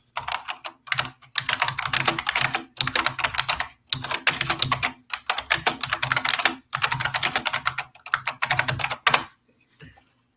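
Fast, forceful typing on a clicky mechanical keyboard: dense bursts of sharp key clatter in several runs with brief pauses between them, close and loud, ending in a short quiet tail.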